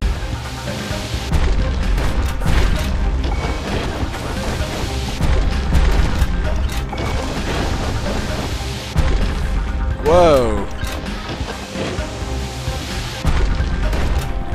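Ground crumbling and being destroyed in the Bastion video game, a string of booming crashes and smashing impacts layered over game music, with someone talking over parts of it.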